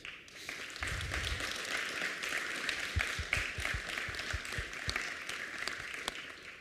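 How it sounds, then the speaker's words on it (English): A conference panel audience gives a round of applause at an energy-themed event, an even spread of many hands clapping in a large room, moderately faint, with a few low thumps near the start and middle. "I would like to have maybe a round of applause for both"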